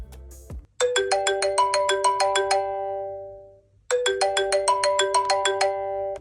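A phone rings when triggered by the find-my-phone feature on a CMF Watch Pro, a bright, repeating melodic ringtone played loud and close in two bursts with a short gap between them.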